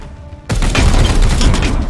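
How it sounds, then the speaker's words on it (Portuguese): Gunfire erupts in the tactical game Warhammer 40k: Chaos Gate – Daemonhunters, a sudden loud burst after a brief quiet that settles into sustained, dense shooting and impacts. "Vamos dar uns dois tiros aqui."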